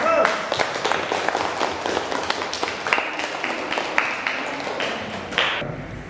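An audience applauds after a student group's class presentation, a burst of scattered claps and taps lasting several seconds, fairly close and lively, fading near the end.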